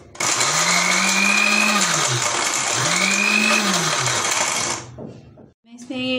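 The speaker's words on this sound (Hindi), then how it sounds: "अब मैं इसके साथ जो है वो प्याज और लहसुन और हरी मिर्चों को ग्राइंड करूँगी।" An electric kitchen grinder blends onion, garlic and green chilies, whirring loudly in two long bursts with a brief pitch dip between them, then stopping, followed by a short clatter and a restart.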